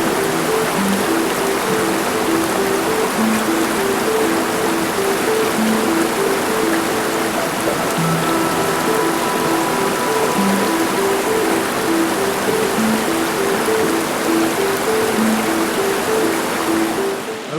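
Rushing river rapids in The Narrows of Zion National Park, Utah, a continuous broadband roar of water flowing toward a canyon wall, steady and close with no talk.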